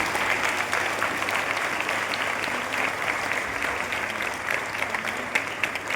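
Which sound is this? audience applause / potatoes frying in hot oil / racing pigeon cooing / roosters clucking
audience applause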